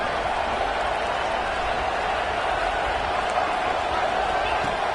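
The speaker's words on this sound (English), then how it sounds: "here comes the noise. This crowd is trying to inspire this defense to make a big red zone stop" A football stadium crowd at a Penn State game roars in a broad, sustained wash of noise as the defense tries for a red zone stop, steady and loud from start to finish.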